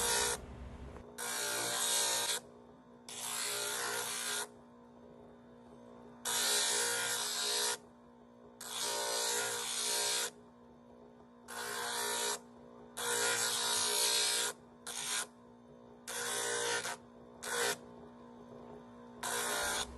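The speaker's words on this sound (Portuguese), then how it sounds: "você vai lixar aproximadamente a metade da madeira" A wooden Opala car model hood is sanded by hand in repeated bursts of harsh scratchy rasping, about ten strokes of uneven length separated by short pauses, close and fairly quiet over a low steady hum.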